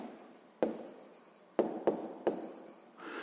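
A pen writing by hand on paper while working a sixth-grade maths exercise: soft scratchy strokes with several sharp taps as the pen is set down, close and quiet in a calm room.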